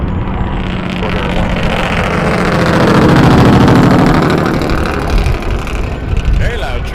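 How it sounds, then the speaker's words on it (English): A very loud truck passing near an airport plane-spotting spot, its engine roar swelling to a peak mid-way before easing off, with faint voices underneath. "Very loud truck."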